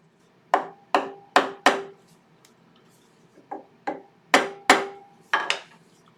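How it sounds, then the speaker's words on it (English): A small rubber hammer knocks a wooden ladle blank into a scrap-wood jam chuck for woodturning, making about ten sharp, close knocks in quick bursts separated by short pauses. "I'm just going to get a little rubber hammer here. I'm just going to knock it in a little bit."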